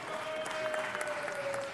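Applause for a communications manager at a city council meeting, a steady moderate wash of clapping from the room, fairly distant and even throughout, with a faint sustained tone running underneath.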